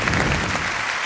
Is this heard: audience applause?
yes